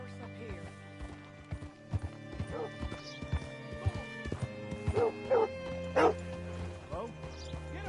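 Horse hooves clip-clop in a Red Dead Redemption 2 game scene, a steady run of light hoof knocks under a continuous low hum, with a dog barking and a voice speaking over the top.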